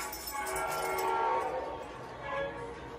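An O gauge model train rumbles along its track with a steady whirring drone, swelling slightly as it passes nearby.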